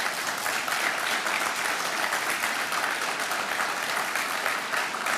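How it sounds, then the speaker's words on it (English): Audience applause at a Port of Spain General Hospital completion ceremony, honouring a doctor: steady, even clapping from a seated crowd, continuous and moderately loud for the whole stretch with no talk over it. "I'd like you to give him a round of applause"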